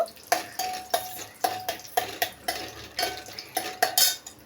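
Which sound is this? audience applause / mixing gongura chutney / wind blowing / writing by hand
mixing gongura chutney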